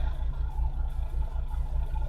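A Subaru rallycross car's engine idling at about 820 RPM, a low steady pulsing rumble with an even rhythmic throb, close and continuous with no revving.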